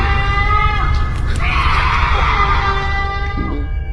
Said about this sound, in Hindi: तभी आधी रात को किसी के जोर जोर से चिल्लाने की आवाज आने लगती है।